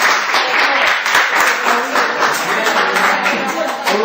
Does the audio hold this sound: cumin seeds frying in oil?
no